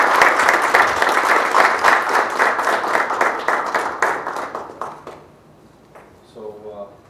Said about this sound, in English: why don't we give a warm round of applause to Professor Yoon for being here.